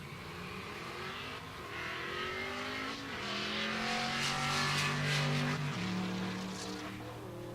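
Drag race cars launching at Pueblo Motorsports Park during Rocky Mountain Race Week, a Miata-powered cart and a GTO, engines revving and climbing through gears in loud rising sweeps with shifts, sustained near roar.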